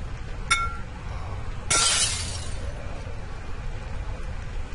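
Glass breaking in the horror game Amnesia: a light clink, then a loud shattering crash with a bright ringing tail that fades under a low ambient rumble, with no voices.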